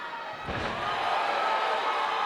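A crowd roars at an MMA cage fight, Cage Titans XXXVII, after a big shoulder slam: a thud at the start gives way to a steady, swelling wash of cheering that fills the rest of the moment.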